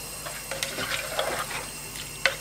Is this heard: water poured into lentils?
yes